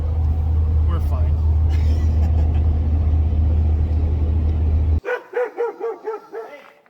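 Excited dogs bark and whine in a quick, loud run of pulsing yelps right after a long stretch of steady road and car-interior rumble from a road trip ends abruptly.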